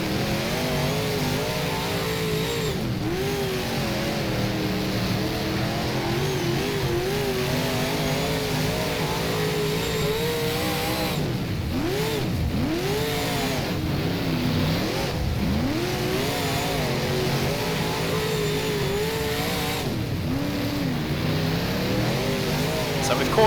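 A Super Late Model race car on Lernerville Speedway in rFactor revs and drones continuously, its engine pitch swooping up and down through gear changes and corners, loud and close while someone talks over it.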